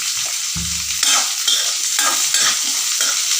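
Chopped onions and green chilies sizzle in a hot pan, with a dull knock early on, then repeated scraping strokes from a spoon stirring them, up close with no talking.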